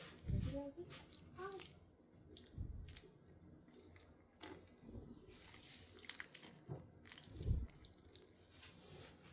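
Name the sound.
water poured onto potted plant vines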